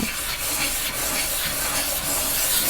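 Abrasive grit rubs steadily against a soldered jewelry bezel in a continuous close-up rasping scrape, with slight rhythmic strokes and no voices.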